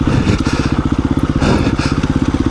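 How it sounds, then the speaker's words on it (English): KTM 350 EXC-F dirt bike ridden on a rocky trail, its single-cylinder engine thumping in a close, loud, rapid rhythm with rattling and clatter from the rough ground. "I've been riding for about a half an hour, going through insane rocky trails"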